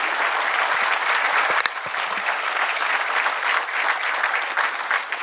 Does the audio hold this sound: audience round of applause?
yes